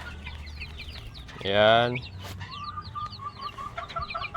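Newly hatched chicks peep in quick, high chirps around a coop, with a loud hen cluck cutting in midway and a voice speaking faintly nearby.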